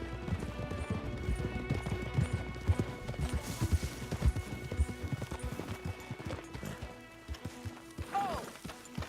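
Horses' hooves clip-clop at a trot in the Red Dead Redemption 2 video game, steady overlapping beats close by, with a short snort or whinny near the end.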